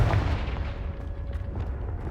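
A Confringo blasting spell bursts in Hogwarts Legacy with a low, booming explosion that rolls into sustained rumbling and crackle across the whole stretch, with no voices.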